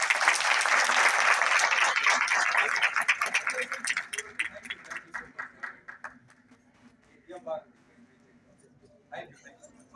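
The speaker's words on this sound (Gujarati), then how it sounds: "એકવાર જોરદાર તાળીઓ પાડી" Loud audience applause at a live film star-cast event fills the opening seconds, then thins into scattered claps and fades out, with a few late isolated claps.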